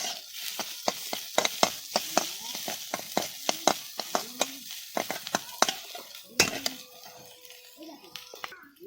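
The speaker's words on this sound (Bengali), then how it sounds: "থোড় আর পেঁয়াজ সুন্দর করে ভাজা হয়ে গিয়েছে" Banana stem and onion frying in a pan, with a close sizzle and a run of sharp spatula scrapes and knocks in an irregular rhythm, and a voice talking over it.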